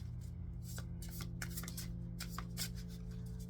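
Tarot cards riffled and shuffled by hand, with quick crisp flicks and slides in uneven bursts, close and clear with no voice over them.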